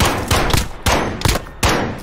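Four sharp, loud gunshots ring out in the Ready or Not video game, evenly spaced about half a second apart, each with a short echoing tail.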